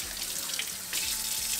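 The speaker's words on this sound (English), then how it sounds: "Using soap, because last time I just rinsed my hands off with water." Hands are washed with soap under a running tap, a steady close splash of water that flows continuously without any talk.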